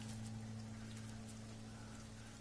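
Toxic rain falling in No Man's Sky, a steady dense hiss of rainfall over a low constant hum, even and unbroken for the whole stretch.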